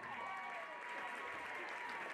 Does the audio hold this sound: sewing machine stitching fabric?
no